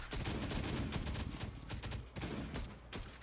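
Dense, rapid gunfire bursts with booming impacts in the video game Last Day on Earth: Survival, continuous and loud throughout, with brief gaps between volleys.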